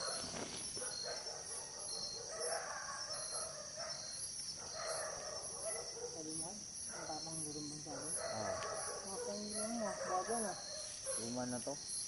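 Grasshopper chirping among banana plants in Cavite during a spider hunt: a constant high insect trill runs throughout, with people talking over it the whole time.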